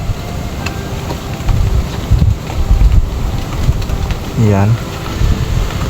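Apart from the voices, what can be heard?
strong wind outdoors in a rice field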